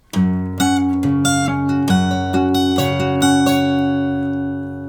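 A short fingerpicked acoustic guitar phrase from a song, clear plucked notes ringing into one another at an unhurried pace, played alone and close.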